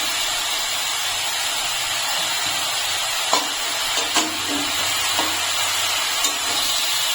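Steady broadband sizzle of pumpkin stem curry frying in a pan as a mustard-poppy-green chili paste is stirred in, with occasional soft spatula scrapes and small clicks over the hiss.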